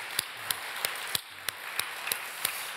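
Quiet, evenly spaced handclaps at a Korean church's early-morning year-end prayer meeting, roughly three sharp claps per second in a steady rhythm that sounds like a small group of hands rather than a full crowd.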